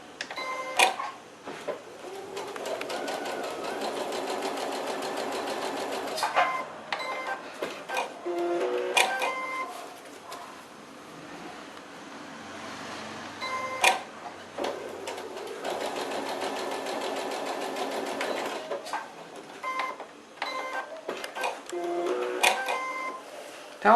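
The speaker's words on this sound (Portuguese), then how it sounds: "E vou passar uma costurinha de segurança só na beiradinha para ele não levantar aqui." A sewing machine runs a safety seam along the edge of fabric, its needle clattering in rapid bursts of several seconds separated by brief pauses, close and moderately loud.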